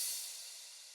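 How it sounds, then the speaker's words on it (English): A sampled crash cymbal in an electronic track, a single bright washy hit decaying into a long reverb tail, heard alone. "And then we've got a crash, and this is just for different impacts throughout the track"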